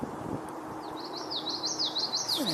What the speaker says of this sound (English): Faintly I hear a northern cardinal,